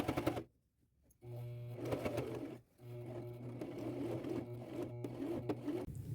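A sewing machine runs close, top stitching around a fabric and lace tote bag, whirring steadily in two bursts after a brief pause near the start.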